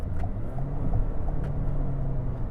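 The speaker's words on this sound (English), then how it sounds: "Hear that CVT go." Steady low engine and road drone from a 2022 Toyota Corolla Cross AWD with a CVT cruising on a freeway, a continuous interior hum with no talk.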